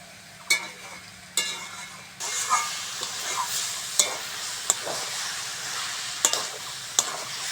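Kadai shaak greens fry in a pan, a steady soft sizzle broken by several sharp scraping clacks of a spatula stirring, close and fairly quiet, with no talk.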